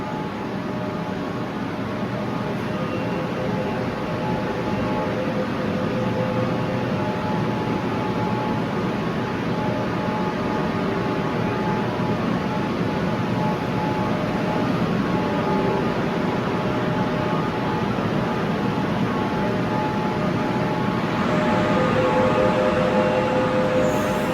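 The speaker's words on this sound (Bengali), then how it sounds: "মেট্রো ছেড়ে দিল।" A Kolkata Metro train at Central Park station rumbles continuously and loudly for the whole stretch, a steady underground roar with a tonal whine riding on top and no voices.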